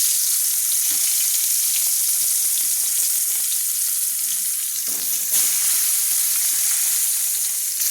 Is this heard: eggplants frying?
yes